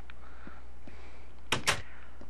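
A door in the Minecraft video game shuts with two quick, crisp clicks in close succession against a quiet, faint background.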